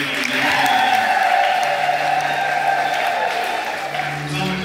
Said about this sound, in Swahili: Naomba tumshukuru Mungu kwa makofi ya leo